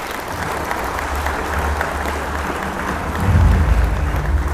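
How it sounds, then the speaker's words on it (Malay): An audience at an evening gala launch ceremony gives a round of applause for the organizing staff, a steady wash of clapping over a low hum that swells louder toward the end. "bersama kita untuk memberikan satu tepukan kepada Jawatan yang terlibat"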